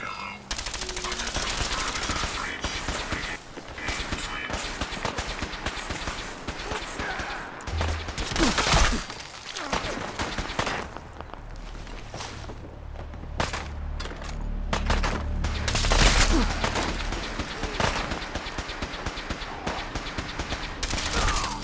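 Sustained bursts of automatic gunfire and rapid shots rattle through a Fallout 4 Far Harbor firefight, dense and loud for long stretches with brief lulls, and voices talk intermittently over the combat.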